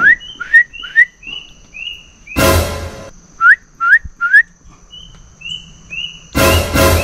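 Outdoors near Kilangin Falls, a bird gives repeated clear, rising whistled notes in short bursts, loud and close, broken by two brief gusts of broadband noise.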